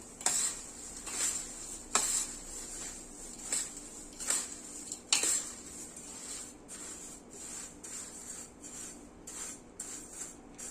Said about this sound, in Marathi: गरम असल्यामुळे आपण हाताने मिक्स करू शकत नाही अशा पद्धतीने हे मिक्स करून घ्यायचे